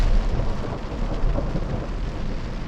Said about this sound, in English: That was some good thunder.